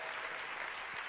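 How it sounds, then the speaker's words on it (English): An audience at the Global Climate Action Summit applauds, a dense, even wash of clapping from a large crowd for about a second, with no speech over it. "please give a round of applause to the young people who make Green for All work"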